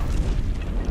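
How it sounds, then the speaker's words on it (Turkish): An explosion in the video game Metro Last Light Redux, a brief, deep, rumbling boom. "Güzel patlama."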